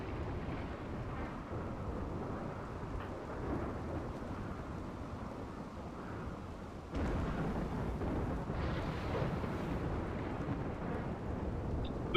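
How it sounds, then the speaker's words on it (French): A thunderstorm in the video game RimWorld rumbles with steady rain and low thunder, a dense continuous roar that swells louder partway through, with no talk. "Petit orage."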